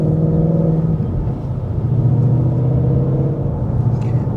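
A supercharged 710HP Ford Mustang engine rumbles steadily while driving, with a deep, continuous low drone heard from inside the car under light throttle.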